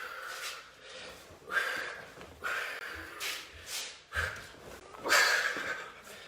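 Heavy rhythmic breathing during an Aiki Ju Jitsu class, a series of loud breathy inhales and exhales repeating roughly every second and a half, close and alone without talk.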